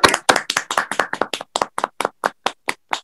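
At a graduation ceremony for the Facultad Seminario Andrés Bello, a small audience claps in loose, sharp, distinct hand claps, close and fairly loud at first, then thinning out and slowing to sparse single claps.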